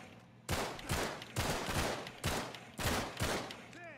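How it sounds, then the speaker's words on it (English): Gunfire in the video game Uncharted 3 comes in loud, booming bursts of rapid shots, about six heavy volleys in close succession with no talk over them. "They changed their gun sound effects."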